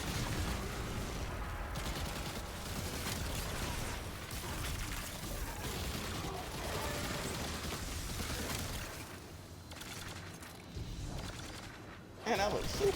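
Dense, continuous gunfire from the video game Destiny 2, rapid bursts and automatic fire layered over mechanical weapon noise, steady and loud throughout with a sharper pop near the end; a voice talks over it.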